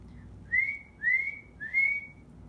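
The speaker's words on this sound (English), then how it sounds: "Peep sounds like a whistle." Three short, high, rising peeps from a spring peeper frog repeat at an even pace, clear and whistle-like against a quiet background.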